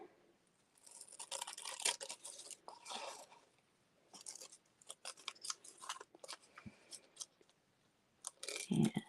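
Scissors snip and crinkle through fragile tissue paper cut into a leaf shape, a close run of quick papery cuts in bursts with short pauses between them and no talk.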